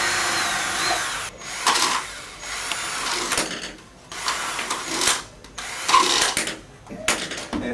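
A power drill whirs in several short bursts separated by brief pauses, its high buzzing pitch rising and falling as it bores small holes through a thin red plastic cup.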